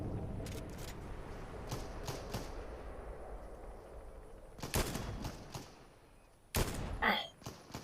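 Fortnite gunfire cracks out in short sharp bursts, scattered single shots then two louder volleys near the end, close and punchy over game ambience.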